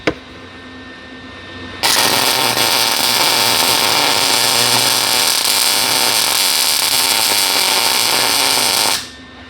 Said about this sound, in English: I'm just gonna run some weld top of the bolt and down the side in here so it doesn't spin.